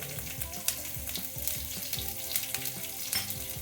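Finely chopped ginger and green chillies frying in hot oil in a pan, giving a steady close sizzle with light stirring scrapes throughout.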